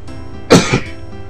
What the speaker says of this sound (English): Excuse me for 2 seconds while I cough.